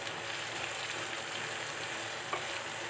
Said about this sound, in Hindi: साथ में हम इसमें डाल रहे हैं प्याज और टमाटर। इन्हें मिक्स कर लेंगे।